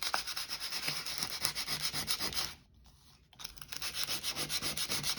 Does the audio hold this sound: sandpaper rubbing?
yes